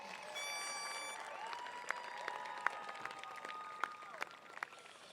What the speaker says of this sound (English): So, round of applause to you